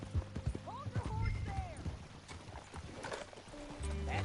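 Horse hooves clip-clopping in Red Dead Redemption 2, a quick run of hoofbeats with a whinny-like call, mixed under game dialogue and ambient noise.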